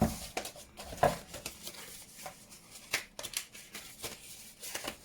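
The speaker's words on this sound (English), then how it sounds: "take much off this one because I'll cut the pattern off." Scissors snip through a paper pattern in short, crisp cuts at an uneven rhythm, close and moderately quiet, with light paper rustling between strokes.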